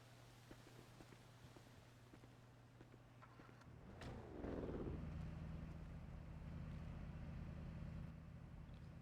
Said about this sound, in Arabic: شغل السيارة.